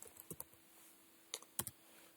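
Quick bursts of typing on a computer keyboard while entering a Python program: a short cluster of crisp key clicks, a pause, then another quick run of taps, close and fairly quiet.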